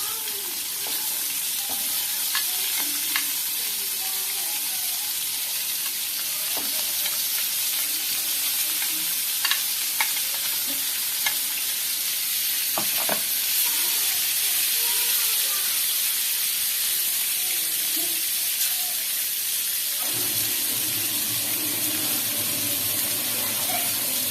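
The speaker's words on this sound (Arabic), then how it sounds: "انا هشوحهم بس كده ياخدوا تشويحه" Peppers sautéing in a hot pan give a steady, loud sizzle and hiss close by, with occasional stirring scrapes and clicks, and a brief change in tone near the end.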